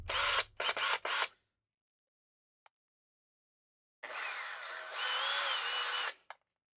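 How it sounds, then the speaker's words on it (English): Bursts of a whirring power drill in a video game, first a few short stuttering pulses, then after a silent gap a longer sustained high-pitched whine that ends abruptly. "Tab, hand me that power drill."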